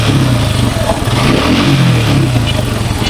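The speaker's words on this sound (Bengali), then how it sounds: "আমি একটু এক্সেলেটর দিয়ে আপনাদের সাউন্ডটা শোনাই, এই যে দেখুন ইঞ্জিনের কাছে থেকে একটু সাউন্ডটা একটু শোনাই" A hot motorcycle engine runs close up while the accelerator is blipped, giving a loud throbbing rev with a pulsing low rumble throughout.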